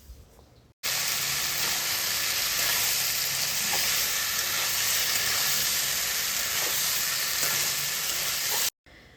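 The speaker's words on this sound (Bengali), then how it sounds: "এবার এর মধ্যে দিয়ে দিচ্ছি ভেজে রাখা আলু আর বরবটি। এবার এগুলোকে মশলার সাথে খুব ভালোভাবে মিশিয়ে নেব।" Fried potatoes and yardlong beans tossed into spice masala in hot oil, producing a loud, continuous frying hiss with faint stirring knocks, close up, starting abruptly and cutting off near the end, with no voices.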